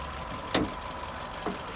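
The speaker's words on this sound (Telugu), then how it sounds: "చూడండి ఇంజన్ బీడింగ్ చాలా సైలెంట్గా స్మూత్గా ఉందండి." A Hyundai Santro car engine idles quietly and smoothly with a low steady hum, broken by two brief sharp clicks or knocks, and no voices.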